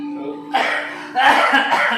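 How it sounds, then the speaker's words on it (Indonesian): A couple of harsh coughing bursts close to the microphone, following a faint murmuring voice. "Batuk kayak."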